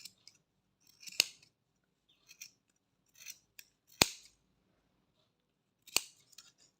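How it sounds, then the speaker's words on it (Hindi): Scissors snipping knitting yarn while making a knitted cap, a few sharp close crisp cuts spaced a second or two apart with soft rustling handling in between. "कैंची से आपने दोनों साइडें काट लेनी है ऐसे"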